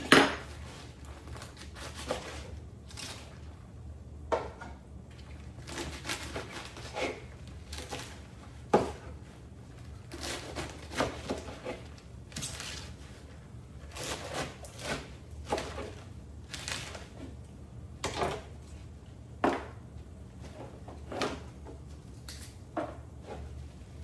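Vegetables being chopped for meal prep make irregular knife taps and clatters on a board, mixed with occasional clinks of dishes and utensils, close by and without talk.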